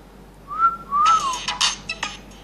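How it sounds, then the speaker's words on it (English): Two quiet, gliding whistles from a person trying to trigger an Android phone finder app. A burst of sharp clicks and rustling handling noise follows, then a few scattered taps. "Okay, now let's do a whistle."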